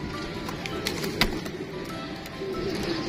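A pair of golden Kamgar pigeons of the Sadhna breed coo softly nearby, low murmuring calls over a faint background hum with a few small clicks.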